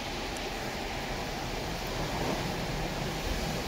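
Heavy rain pours down during a strong storm as a dense, constant roar of broadband hiss with a low rumble, steady and loud throughout, with no voices over it.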